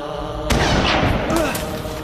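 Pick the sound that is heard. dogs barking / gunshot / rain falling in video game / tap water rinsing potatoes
gunshot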